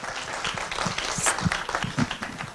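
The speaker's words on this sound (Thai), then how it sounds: "ขอเสียงปรบมือด้วยค่ะ" Audience applause at a Thai seminar on tourism and city CCTV, a steady crowd of clapping hands filling the moment, with no speech over it.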